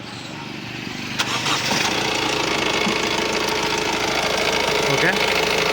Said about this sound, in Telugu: ఓకే, ఇంజిన్ అనేది స్టార్ట్ అయింది.